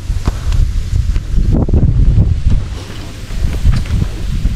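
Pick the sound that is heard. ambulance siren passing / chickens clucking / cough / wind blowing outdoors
wind blowing outdoors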